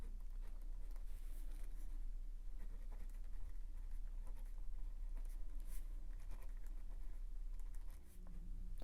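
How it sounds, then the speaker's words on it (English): A pen draws on the paper of a bullet journal, its steady scratching strokes continuing close and quiet throughout, with no talking. "So I draw the day of the week and I put 3 squares."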